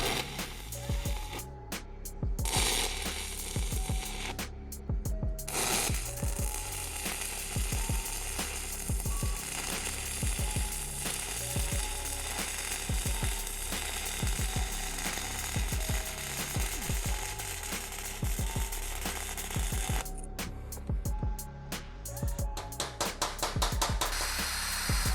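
Arccaptain 205 welder stick welding a bead on used 1/8 inch metal at 80 amps, a continuous crackling, sputtering buzz with brief gaps, steady and close.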